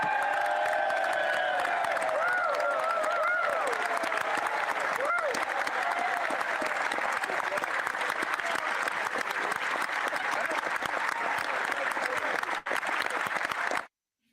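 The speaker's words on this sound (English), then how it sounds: "Is everybody clapping?" Members of the Canadian Parliament break into sustained applause and cheering after a budget speech, a dense, loud, unbroken roar of clapping with a voice talking over the start before it cuts off abruptly.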